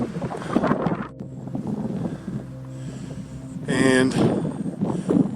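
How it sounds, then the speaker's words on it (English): Wind blowing on a mountain trail in Roosevelt National Forest, heard as loud, gusty rumbling microphone buffeting that runs throughout, with people talking over it. "We're gonna get out of this wind for a minute."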